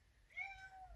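A house cat gives a single short, faint meow with a rising and falling tone. It is heard up close in a quiet room.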